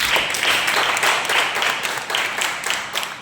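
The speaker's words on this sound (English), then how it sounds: "Please clap for him again." An audience at an educational foundation's STEM program event claps loudly and steadily, a thick, continuous round of applause in a hall.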